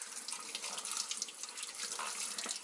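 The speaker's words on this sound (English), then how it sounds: "I run it through the water" A makeup brush rinsed under a running tap, a steady close hiss and splatter of flowing water with no pauses over a couple of seconds.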